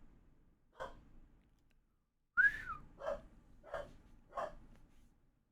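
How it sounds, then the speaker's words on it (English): A dog in World of Warcraft Classic Hardcore barks several times, short separated yaps after a lone first one, fairly faint against a quiet background with no talking. "What the hell is he barking at, dude?"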